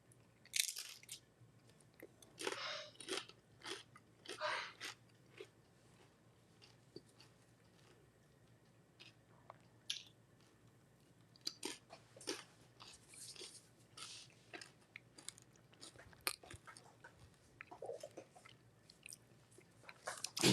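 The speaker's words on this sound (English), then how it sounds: "You should have heard all that glorious chewing." Close, crisp chewing of chips dipped in dip, with sharp bursts of crunching bites separated by quieter pauses, alone with no talk.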